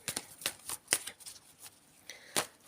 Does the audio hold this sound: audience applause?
no